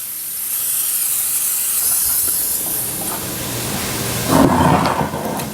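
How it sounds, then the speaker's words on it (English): Cooking spray hissing steadily onto a baking dish for a casserole, close and continuous, with a brief louder burst near the end and no voices. "we're going to spray our bacon dish with cooking spray"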